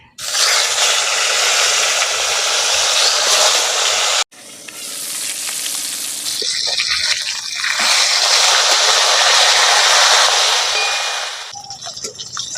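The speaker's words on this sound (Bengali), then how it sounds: "এবার ধুয়ে রাখা মাছের মাথাটা ওই তেলের মধ্যে দিয়ে দিচ্ছি" Fish heads, rubbed with salt and turmeric, frying in hot oil: a loud, dense, continuous sizzle that breaks off briefly, then returns and fades near the end, with no voices.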